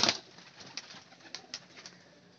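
Royal Teddy pigeons in Lahore give a few soft, short coos nearby. The calls are brief and fairly faint, with no talking.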